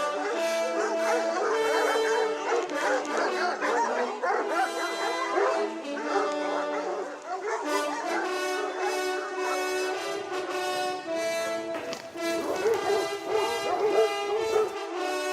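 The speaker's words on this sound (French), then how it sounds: "Les chiens se réveillent Ils ont envie d'aller chasser." Hunting hounds at the Château de Champchevrier in France wake up and bay together in a loud, continuous, overlapping chorus that keeps going for the whole stretch, with a brief dip partway through before swelling again.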